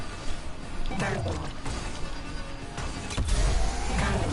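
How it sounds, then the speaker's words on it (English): A turbo boost fires on an anti-gravity racer in wipEout Omega Collection, a sudden rushing surge over a steady engine drone, with a second swell a couple of seconds later amid loud racing noise. "Turbo."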